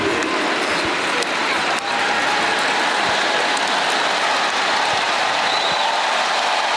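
At the US Open women's tennis final, a large stadium crowd applauds in a dense, sustained roar of clapping that holds at a steady level throughout.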